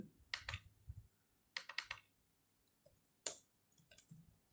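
Text typed on a computer keyboard: three quick bursts of close, crisp key clicks separated by short pauses, with no voice over them.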